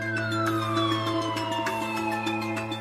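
A special phone ringtone imitating a police siren sounds loudly and steadily, its wailing tone sliding downward in pitch over a few seconds, with no talk.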